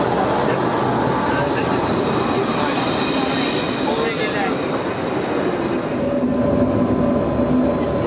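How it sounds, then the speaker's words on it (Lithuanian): A traditional tram runs through Vilnius with a continuous close rolling rumble, faint wheel squeal and steady hum throughout. "Štai išbandysime tradicinį tramvajų."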